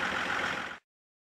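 A motorcycle engine drones steadily for under a second, loud and close, then stops abruptly.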